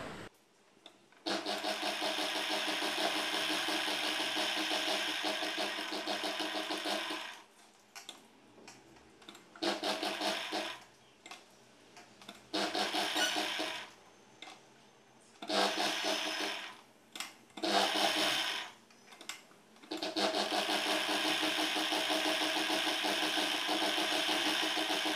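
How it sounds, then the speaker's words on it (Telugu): A sewing machine stitches a blouse in bursts, with long steady whirring runs at the start and finish and several short stop-and-start runs in between, close and fairly loud. "అలానే రెండో చివర కూడా కుట్టు వేసుకోవాలి."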